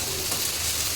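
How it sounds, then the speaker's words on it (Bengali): Leafy greens such as kalmi shak frying in a pan, giving a steady, close hiss of sizzling oil that ends with a short clatter. "মা এখন শাক ভাজা করছে,"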